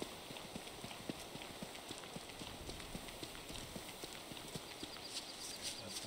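Beefalo herd animals walking in a video game, soft repeated hoof thuds in an uneven plodding rhythm over a hissy background, faint and distant.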